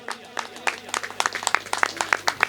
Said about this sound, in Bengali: নুরো মঞ্চে এসছে, ওর জন্য একটা জোরে হাততালি হয়ে যাক।